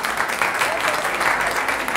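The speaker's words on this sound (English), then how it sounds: "If you want to clap, clap" Audience at a talk on Nigeria's creative economy gives continuous applause, a broad crowd of hands clapping steadily for a couple of seconds, fairly loud and close.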